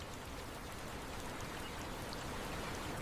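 Steady rain pours down in a forest near a river mouth on an island, a dense, even hiss of drops on foliage and surfaces that carries on unbroken and close throughout.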